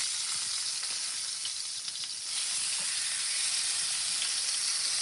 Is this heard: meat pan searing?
yes